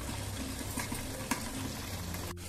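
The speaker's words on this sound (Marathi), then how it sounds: "आपल्याला ही चांगली परतवून घ्यायची आहेत। आधी आपल्याला हलकीशी अशी शिजवून घ्यायची आहेत वांगी।" Eggplant pieces sizzle steadily as they are stir-fried in a pan for a Maharashtrian vangi bhaji, with a few soft scrapes of stirring and a sharp clink near the end.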